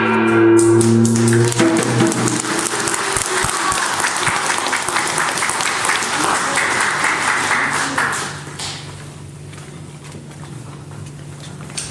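A church congregation applauds loudly during a Sunday worship service, dense sustained clapping that follows the tail of a sung hymn, then fades down to softer scattered claps and room echo toward the end.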